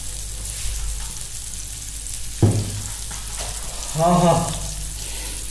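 King fish sizzles as it fries slowly on a tawa over low flame, a steady soft crackle throughout with a brief stirring clatter, while a voice murmurs appreciatively.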